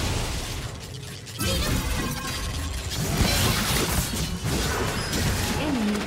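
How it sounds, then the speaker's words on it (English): An enemy turret collapsing in a Wild Rift match, heavy crashing and grinding mechanical debris rolling in after a brief quieter moment, sustained and loud with layered game effects. "Enemy turret destroyed."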